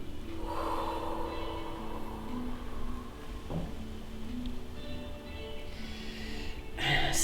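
During a qigong breathing exercise, a deep inhale is drawn audibly through the nose, a soft breathy rush heard over gentle sustained background music tones.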